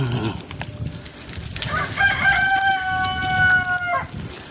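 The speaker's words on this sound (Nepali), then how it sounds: "कुखुरा बाँच्दैछ।" A rooster crows once at a distance on Rajdevi ridge, a drawn-out multi-note call over light outdoor background noise, with no speech.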